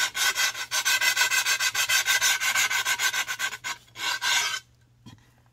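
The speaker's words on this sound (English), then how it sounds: "And you can even wet these sanding pads." A sanding pad is rubbed over a bisqued stoneware platter in quick, rhythmic rasping strokes, loud and close. It continues steadily for several seconds, then stops into near silence.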